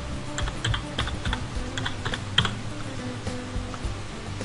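Fingers typing a blog name on a computer keyboard, rapid uneven clicks of keys in quick bursts, close and clear over faint room noise, no talk.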